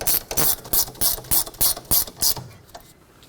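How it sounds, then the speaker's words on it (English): A ratchet tightens the rear brake caliper mounting bolts on a 2005-2010 Pontiac G6, clicking in about nine quick, even bursts up close before it stops. "Let's bottom them out, and then we'll torque them."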